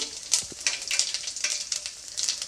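Mustard seeds and cumin seeds frying in hot oil, a close, crackling sizzle with sharp popping bursts scattered throughout, fairly quiet and without voices.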